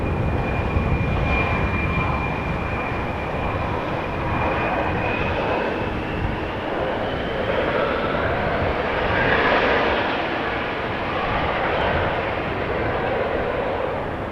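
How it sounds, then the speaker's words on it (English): A jet airliner landing at Amsterdam Schiphol without reverse thrust, a loud sustained roar with a thin whine, swelling slightly as it passes near, no talk. "That is a no reversal landing."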